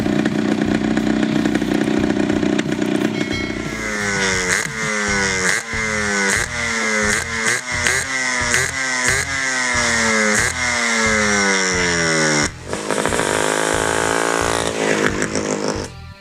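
A Yamaha RX 135 five-speed two-stroke motorcycle engine idles, then is blipped again and again in sharp rising revs with a buzzy, raspy note, closing on a long high rev held near the microphone.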